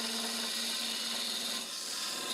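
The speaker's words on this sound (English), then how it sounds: "So I'm going to do that with my parting tool." A parting tool cuts into spinning wood on a lathe with a continuous close, raspy scraping hiss that dips briefly midway, with no talking.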